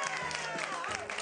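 A crowd applauding and cheering for kids at a community event, steady clapping mixed with voices and a few whoops throughout, with people talking over it.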